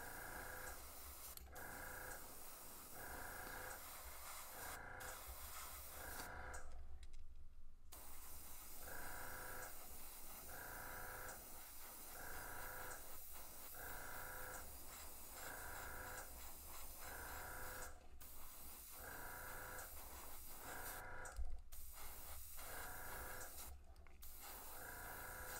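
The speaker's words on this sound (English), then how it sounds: "Try and spray it straight on" Short hissing bursts of spray paint on a fishing lure repeat in a steady rhythm, each lasting about a second, with quiet pauses between and no talking.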